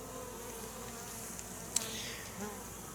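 Honey bees buzzing at a beehive outdoors, a steady low drone of many insects continuing throughout at moderate distance, with one brief sharper click midway.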